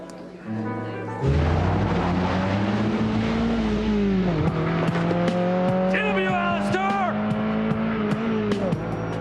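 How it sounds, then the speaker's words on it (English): A car speeds away with a sudden loud engine surge, then a sustained revving drone with shifting pitch, close and dominant throughout, with faint higher squealing tones late on. "They just took off in that car right there"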